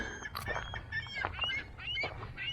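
Several gulls call repeatedly nearby at a bay marina, their squawks and cries overlapping in a busy, irregular chorus over faint low background noise.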